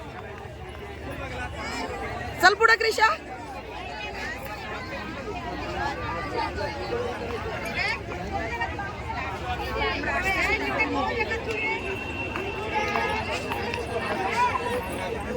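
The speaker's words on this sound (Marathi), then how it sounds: "गर्दी भरपूर आहे" Dense crowd chatter and babble fills a busy Prem Mandir temple complex throughout, with a brief louder burst near the start and a close voice speaking over the steady hubbub.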